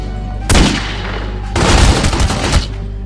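Gunfire in The Godfather PC video game: two loud, close bursts of rapid shots, a short one followed a second later by a longer rattling volley over a constant game background.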